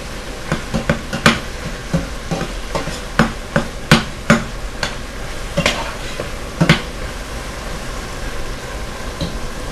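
A spoon presses and breaks up tomatoes cooking in a pot for a Somali rice and suqaar meat dish, giving irregular clinks and knocks against the pot over a low, steady sizzle.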